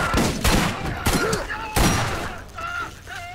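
Several sharp, booming shotgun blasts in the video game Borderlands go off in quick succession amid other game sounds, loud and close with brief echoing tails.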